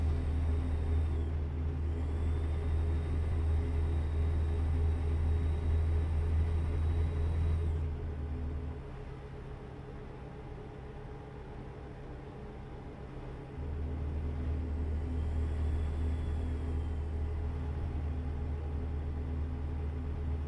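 Steady low engine drone of a truck cruising on a highway in the game American Truck Simulator, dipping to a quieter idle-like hum midway before rising again, with a faint whine over it.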